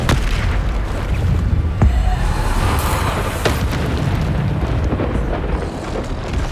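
Bombarda explosion spells from Hogwarts Legacy, a dense run of booming blasts and bursts over a constant rumbling game backdrop, loud and close, with several sharp impacts standing out.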